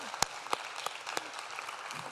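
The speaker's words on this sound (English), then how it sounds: "Let's give them another round of applause." Light applause for the technical crew at a campus and community radio awards gala, scattered claps with a few sharp, distinct hand strikes standing out over a soft room background.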